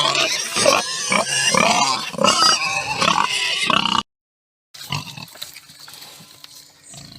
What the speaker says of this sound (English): And I'm back passing the pigs.